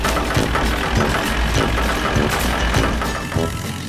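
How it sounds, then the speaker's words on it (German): A small red cartoon tractor's engine runs steadily with a chugging, knocking idle, loud and continuous throughout without speech. "Schön langsam, kleiner roter Traktor. Immer schön langsam weiter."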